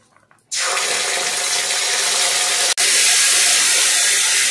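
Water poured into hot oil with cumin and coriander powder, a loud abrupt hiss and sizzle bursting up and staying harsh and continuous, close, with a brief interruption before resuming.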